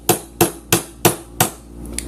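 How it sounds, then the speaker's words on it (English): Five sharp metallic taps from a pocket knife's scissors used as a hammer, struck at an even, quick rhythm close to the mic, then two fainter light clicks at the end. "you can use them as a hammer and nail if you need to"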